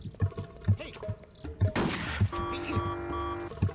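Gunshots in the Hitman Codename 47 video game, a sharp burst of gunfire followed by a ringing tone, set among rhythmic thumping background music and game ambience, moderately loud.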